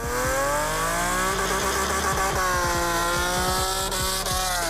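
A 3.7-liter six-cylinder car engine rated at 330 horsepower screams up toward its 7,500 rpm redline, loud and close, its pitch climbing through several rising pulls with brief dips between them.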